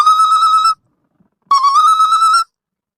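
A phone ringtone plays two short bursts of a bright, buzzy electronic tone, separated by a brief silence, loud and close.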